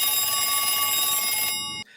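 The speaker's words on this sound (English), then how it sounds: "The phone rings," A telephone bell rings with a bright, shrill, continuous trill that cuts off abruptly after almost two seconds, loud and alone.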